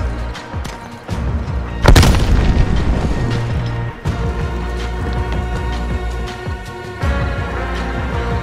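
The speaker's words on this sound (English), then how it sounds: "Throwing frag!" A frag grenade explodes in Call of Duty Black Ops Cold War with a sharp, loud boom that rings out over steady in-game rumble, followed by scattered thuds and pops.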